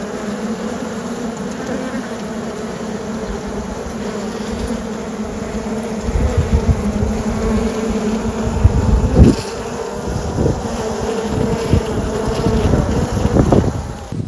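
Honey bees buzz steadily around hives in an Australian bee yard, a dense continuous hum close to the microphone that grows slightly louder and busier toward the end, with light wind noise and a few bumps.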